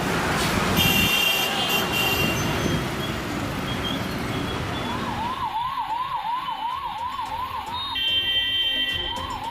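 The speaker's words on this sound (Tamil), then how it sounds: "வாகனங்கள் மட்டுமின்றி ஆம்புலன்ஸ் வாகனமும் போக்குவரத்து நெரிசலில் சிக்கி தவிப்பு." An ambulance siren wails in a repeating rising-falling pattern amid dense traffic noise and horns near a temple crowd, growing clear partway through and continuing to the end.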